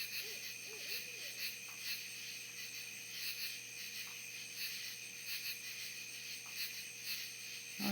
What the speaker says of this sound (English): it sounds like a real owl to me